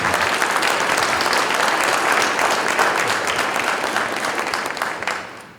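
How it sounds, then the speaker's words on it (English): An audience at a school assembly applauds an award-winning yearbook, a dense, steady wash of clapping from many hands that holds for several seconds before tapering off. "You can applaud that."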